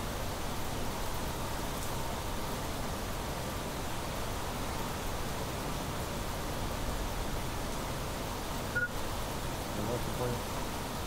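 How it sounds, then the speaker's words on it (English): Heavy, loud rain pours steadily in the video game Planet Crafter, a dense continuous hiss that fills the whole stretch with no letup. "Oh my god, this is very loud rain."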